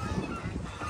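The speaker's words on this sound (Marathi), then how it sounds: "ते कसे ओरडतात बदक" Ducks calling near a boating spot at Hadshi village, with loud, close, continuous honking quacks filling a brief moment.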